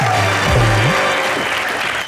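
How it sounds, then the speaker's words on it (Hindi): A television comedy studio audience gives loud, dense applause for a couple on stage, with a short burst of voice sounds mixed in near the start. "एक बार हमारी जोड़ी के लिए जोरदार तालियां बजा दीजिए।"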